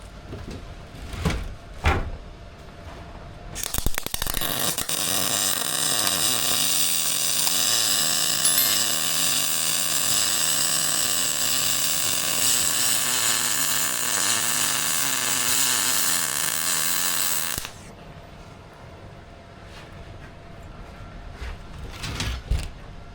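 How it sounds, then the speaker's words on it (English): A MIG welder lays a pull weld on the hull of a sunken boat, a loud, steady crackling buzz running unbroken for about thirteen seconds, with a few short arc bursts before it and quiet afterward. "I'm going to have a little go at pull welding"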